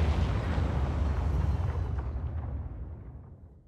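Large bomb blast in a video game, a heavy rolling explosion with deep rumble that stays loud and then fades away over several seconds.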